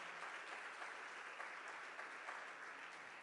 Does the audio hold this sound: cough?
no